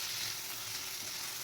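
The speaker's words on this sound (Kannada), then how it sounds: "ಇದು ಸ್ವಲ್ಪ ಸಾಫ್ಟ್ ಆದಮೇಲೆ 1 ಸಣ್ಣ ಹೆಚ್ಚಿದ ಟೊಮ್ಯಾಟೊ ಹಾಕುವ." Chopped onion and tomato frying in a pan, a steady soft sizzle with no other sounds.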